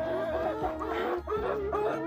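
Near-grown chicks around egg-laying age cluck and call close by in a short, continuous burst of overlapping fowl vocalizations.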